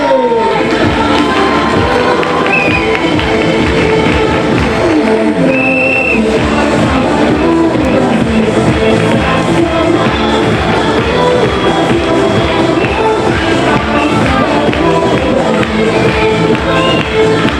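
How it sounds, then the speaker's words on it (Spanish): Dense, loud applause and cheering from a carnival (Antroido) audience for a children's performing group, Bandada da Madalena, sustained steadily throughout with crowd noise mixed in. "Ese aplauso muy fuerte para estos pequerrechos da Bandada da Madalena."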